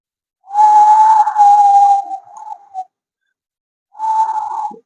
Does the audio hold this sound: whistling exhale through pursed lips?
yes